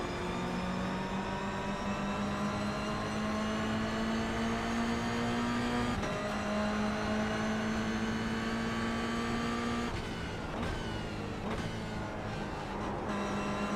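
Race car engine in the iRacing sim game, a steady near whine holding and slowly rising in pitch, dipping and shifting at gear changes, with no talk.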